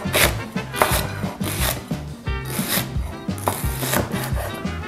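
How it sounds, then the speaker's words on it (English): A knife chopping leek coarsely on a board, rapid rhythmic thuds in quick bursts with brief pauses between, close and crisp. "My leek is next, and on the leek, we don't want a fine chop."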